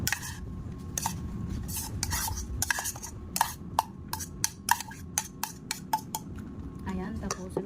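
Chopped pork fat sisig tossed with onion and chili on a plate, a run of quick scraping and clinking of a utensil against the plate that grows denser and sharper toward the end, with a low background hum.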